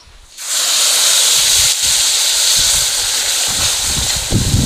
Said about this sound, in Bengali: কড়াইয়ের মধ্যে দিয়ে দিচ্ছি ছোট বাটির এক বাটি চিনি বাটির এক বাটি জল